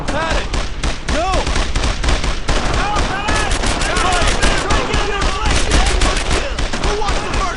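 Intense World War II gunfire in Brothers in Arms: Earned in Blood, loud rapid rifle and machine-gun bursts crackling nonstop, close and dense, with shouted voices mixed in.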